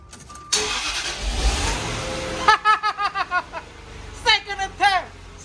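Car engine cranking with a VTOMAN X1 jump starter on boost, then firing and revving in bursts, loud and close, with someone talking over it.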